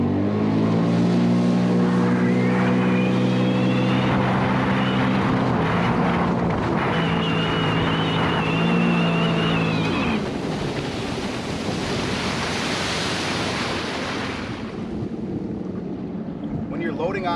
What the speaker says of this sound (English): You can be going wide open across the lake and squeeze that brake lever and you'll come to a complete stop,